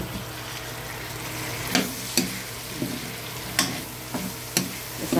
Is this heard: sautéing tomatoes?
yes